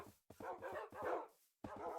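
Dogs barking in a Minecraft game, a run of quick, fairly quiet digital barks and yips in short bursts separated by brief silences.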